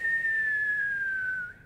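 A voice imitates wind whistling through windows with a single sustained whistle that slowly falls in pitch before cutting off.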